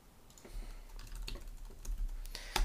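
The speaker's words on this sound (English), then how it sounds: "You're going to type in your password." Soft keystrokes on a computer keyboard as a password is typed, a few quiet close taps ending in a firmer key press, with no voice.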